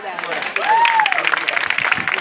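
Crowd applause at a stage show welcoming a popular comedian, dense clapping throughout with a voice calling out over it.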